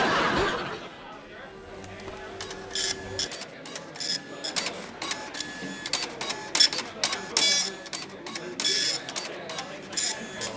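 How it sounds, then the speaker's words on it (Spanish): A printer runs in a room, whirring and clicking with bursts of mechanical chatter, while people talk over it. "¿Pero no has encendido tú la impresora?"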